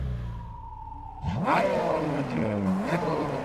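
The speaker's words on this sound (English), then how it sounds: "The noise is not good. The exhaust noise, the note there." Nissan 370Z V6 exhaust note in the racing game Test Drive Unlimited Solar Crown: a low idle drone that erupts into a loud, rising rev, with pitch climbing and wavering as the engine pulls hard.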